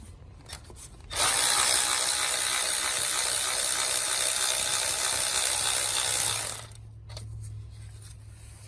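A power tool whirs steadily for about five seconds, loud and close, while removing the front bolt on a Honda engine, with brief clicks before and after.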